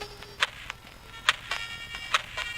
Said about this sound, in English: This is with the high passed EQ